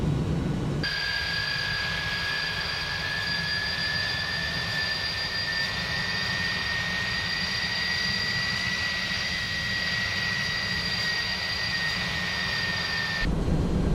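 Airbus A300 BelugaST cockpit in the X-Plane 11 flight simulator: a steady, dense jet-engine roar with high whining tones runs throughout while the landing gear extends, a fairly loud, even drone with no voices.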